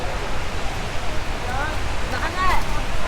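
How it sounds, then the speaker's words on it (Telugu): Hogenakkal waterfall roaring as a broad, steady rush of falling water, loud and continuous, with faint voices and a few brief whistle-like tones in the background. "ಒಗನಿಕಲ್ ವಾಟರ್ ಫಾಲ್ಸ್"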